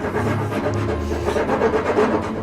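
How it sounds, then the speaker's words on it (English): Steady rasping of a hand file smoothing the curved wooden top of a blockfront lowboy, continuous close scraping strokes with no talking. "I've got some different files here. Some are coarse and some are extra fine."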